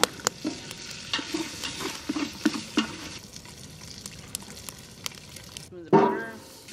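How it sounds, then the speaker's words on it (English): Bacon sizzles in a cast iron skillet over an outdoor campfire, a steady crackling fry broken by scraping stirs and clinks. A sharp clatter and a brief voice come near the end. "I need to get that bacon to kind of crisp a little bit"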